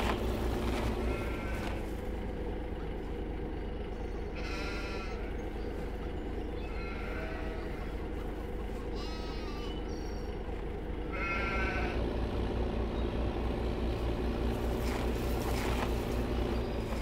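Sheep in Farming Simulator 15 give several separate bleats over a steady low machinery hum, moderately loud and spaced across the stretch.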